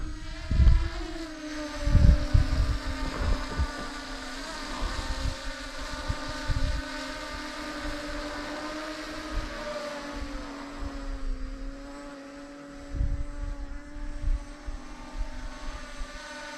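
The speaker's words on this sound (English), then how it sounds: "Good flying drone." A Holy Stone HS720R drone hovers nearby, its propellers giving off a steady, high-pitched buzzing whine that holds for the whole stretch. A few thumps and handling noises come through early on.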